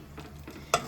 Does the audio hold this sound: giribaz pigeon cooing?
no